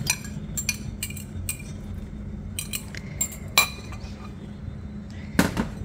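A utensil scrapes and clinks against a bowl while thick oat dough is folded with beaten egg white, giving sparse close taps over a quiet background.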